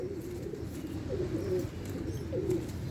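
Sky pigeons coo in soft, low, repeated warbling calls from a loft of breeding birds, close by over a steady background hum, with no talk.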